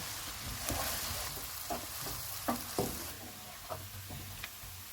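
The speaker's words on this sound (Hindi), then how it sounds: "ऑयल गर्म हो गया, इसमें चॉप किया हुआ एक प्याज डालेंगे। इसको गोल्डन फ्राई करेंगे।" Steady sizzling and crackling of chopped onion frying golden in hot oil, with occasional soft scraping and stirring sounds, moderately quiet and continuous.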